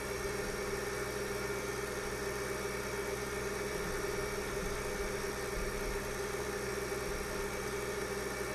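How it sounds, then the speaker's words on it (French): A small tractor engine hums in Farming Simulator 2013, a steady, even mid-low drone with a faint vibration and no speech. "je vais reprendre le petit tracteur qui est à la ferme"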